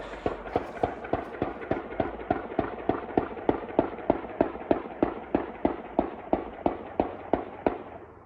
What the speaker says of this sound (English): Whoa, somebody is shooting over there. Quite a few shots.